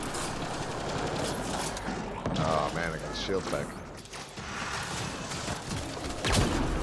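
Gunfire in the video game Mass Effect Andromeda, a run of rapid mechanical shots and weapon clatter continuing through the clip beneath a player's spoken remarks.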